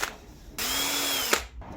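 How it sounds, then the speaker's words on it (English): A power drill whirs at a steady pitch for under a second, drilling a cable hole while wiring a camper trailer, starting and stopping abruptly, close by, with brief handling noises around it. "Now I need to drill a hole just the right size for this cable to pass through here"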